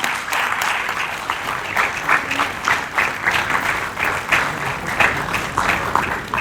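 Loud, sustained audience applause at a Hindi stage event, a dense wash of clapping from many hands continuing steadily without pause.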